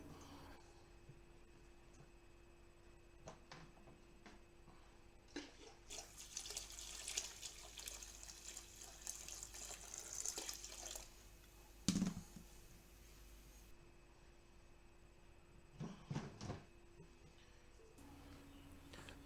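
Water running into a home brew plastic fermenter to top it up to the 23 litre mark for a Coopers Celebration Ale clone, a steady tap-fed pour with intermittent splashing surges, fairly close and without talk.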